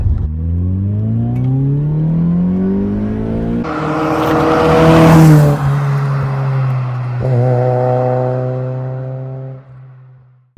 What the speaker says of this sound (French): Mais le petit 4 GE, quand on arrive à 5000 tours minute, là, ah! Quel son est là!